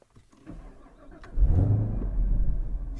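A 2017 Chevrolet Camaro ZL1 fires up and accelerates, a deep rumbling engine that swells abruptly into a loud, sustained close roar.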